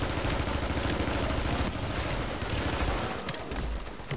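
A turret in The Division fires continuously, a dense, loud, unbroken stream of rapid shots close by that barely lets up throughout.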